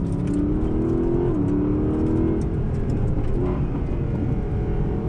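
A Mercedes-AMG SLS Black Series in Sport Plus mode roars loudly up close, its engine revving hard with a brief dip in pitch at a gear change before climbing again, no talking.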